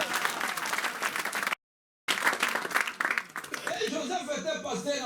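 A church congregation applauds with dense clapping and some laughter, broken by a brief silent gap, before a voice speaks over the fading applause.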